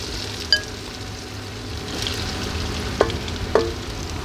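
Finely chopped large onions sizzle in hot oil in a pan while a spiny gourd dish is cooked, a steady close frying hiss broken by a few sharp clinks of stirring.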